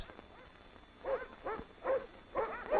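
Sled dogs in an Arctic naval camp yelp and whimper in several short, rising bursts about half a second apart, close and fairly loud over a dull background hiss.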